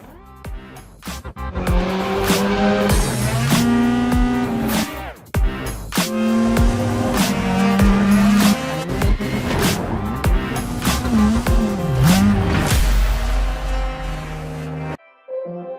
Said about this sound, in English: Dive into the heart of the action and drive the cars from 2022 WRC Championship, including the new hybrid models.